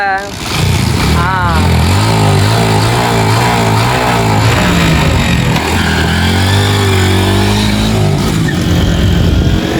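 A motorbike stuck in beach sand revs its engine hard and repeatedly, a loud, close, rising and falling roar that runs through the whole stretch while people talk over it.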